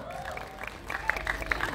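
Audience applause rises at a film press conference for the movie Temurun, a short burst of clapping from a crowd, moderately loud and building toward the end.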